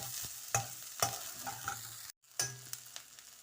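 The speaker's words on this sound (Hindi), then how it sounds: "ये एक छोटी सी प्याज, इसको मैं फ्राई कर लूँगा" A small onion fries quietly in a pan with a soft sizzle. Several sharp clinks and scrapes of stirring break through it, and there is one brief dropout.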